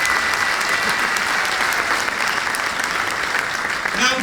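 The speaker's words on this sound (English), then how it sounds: "Would you clap your hands if you've been at the American Band College concert before on the 4th of July?" A large audience at an American Band College concert on the 4th of July claps hands in steady, dense applause that fills the whole stretch without a break.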